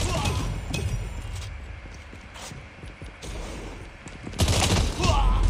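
Gunfire in Call of Duty Mobile: rapid bursts of shots and mechanical clatter run steadily throughout, swelling louder near the end, with someone talking intermittently over the action.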